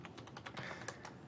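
Rapid clicking of keys on a computer keyboard in an office setting, a quick run of close, crisp taps with no voice.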